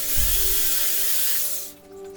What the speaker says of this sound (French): Je rectifie les à-coups de la scie sauteuse avec la scie sauteuse.